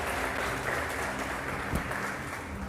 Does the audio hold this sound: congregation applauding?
yes